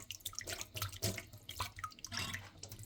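Tap water runs and splashes in a sink while small papaya pearls are washed, a close, steady wash of water with uneven bursts of splashing.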